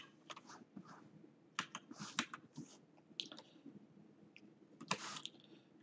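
Someone types on a computer keyboard in quick bursts of close, crisp keystrokes with short pauses between them, and no one speaks.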